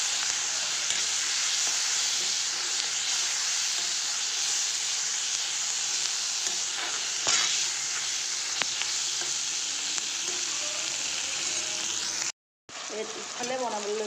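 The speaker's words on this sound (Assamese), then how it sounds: "এতিয়া ভাজি আছোঁ এইফালে বেঙেনা আৰু মাছৰ মাথা দি ভাজি আছোঁ।" Eggplant and fish heads fry in hot oil, a dense, continuous close-up sizzle and hiss that holds steady throughout, cutting out briefly just before the end.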